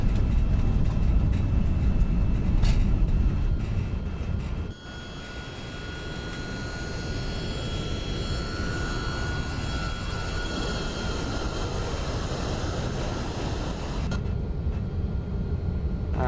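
MD-11F jet engines spooling at takeoff power in X-Plane 11, a loud continuous roar with a steady high whine that dips briefly then holds strong and constant, with no talking.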